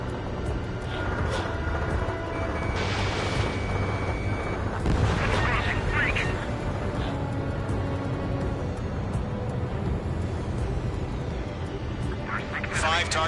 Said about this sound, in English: Missile connected. Target destroyed.